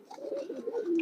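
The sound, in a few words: male green-necked pigeon cooing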